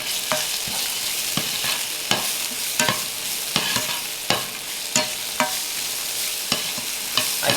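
Ginger and doubanjiang stir-fry in a pan over low heat, with a steady soft sizzle broken by regular sharp scrapes and taps of a spatula against the pan, close and clear with no talking.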